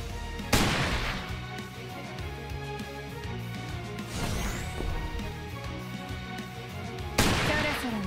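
Sniper rifle shots from the video game StarWard: two sharp, loud cracks about seven seconds apart, separated by steady game music and background effects.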